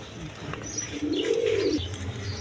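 Pigeons coo at a pigeon breeding farm, with one low, throaty coo swelling near the middle over soft background chirps and the murmur of other birds close by.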